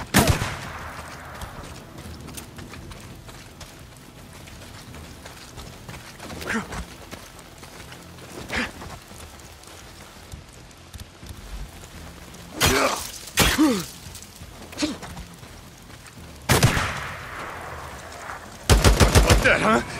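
Sniper ambush in Days Gone, with sharp gunshots cracking out irregularly amid game ambience, several close loud reports clustered near the end, occasional voice sounds mixed in.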